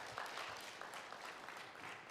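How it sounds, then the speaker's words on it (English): Audience applause at a fintech exhibition event, a steady wash of many hands clapping at moderate distance, sustained without pause and fairly quiet overall. "let us keep clapping for her"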